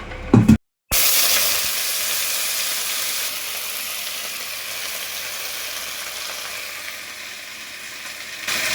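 Moringa leaves dropped into a little oil in a pan: a brief clatter, a moment of quiet, then a steady, moderately loud sizzle and hiss that carries on evenly, with no voices.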